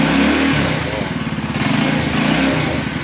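Close and loud, a small motorcycle engine revs up as the throttle is twisted, a rapid, throbbing beat climbing steadily in pitch.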